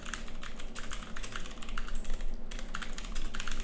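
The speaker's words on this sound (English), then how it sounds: "It doesn't matter what you're typing in here, just know that it is a POI. I'm typing this out" Steady typing on a computer keyboard, a rapid continuous clatter of keystrokes close by, with no other sounds.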